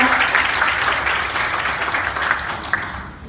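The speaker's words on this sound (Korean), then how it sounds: "여러분 큰 박수로 환영해 주시기 바랍니다." A crowd claps steadily in warm, sustained applause, dense and even throughout before tapering slightly at the end.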